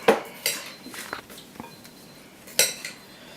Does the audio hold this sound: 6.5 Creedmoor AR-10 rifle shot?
no